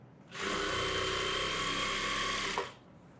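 A sewing machine stitches the folded half-inch hem of gathering pants in one continuous run of about two seconds, a steady close whirring hum that starts and stops abruptly, with no talk.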